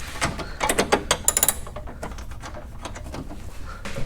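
A 10mm wrench loosening bolts on a Hummer H3 turn signal gives quick clicking ratchet strokes in a short burst, followed by quieter handling noises close by.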